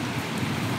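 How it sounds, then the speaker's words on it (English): Pouring rain outdoors, a dense, steady hiss of heavy rainfall close by with no voices over it. "It's pouring rain."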